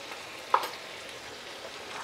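Tomatoes cooking on a medium flame in a pan with Kashmiri red chilli powder, turmeric and salt give off a faint, steady sizzle, broken once by a brief light clink early on.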